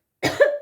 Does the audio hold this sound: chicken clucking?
no